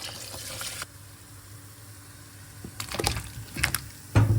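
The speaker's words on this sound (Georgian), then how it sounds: "ჩავამატოთ წყალი" Water pours into a pot of stewed cabbage for borscht in a home kitchen, a short gushing stream at first, then quiet, followed by a few splashes and clinks of the pot near the end.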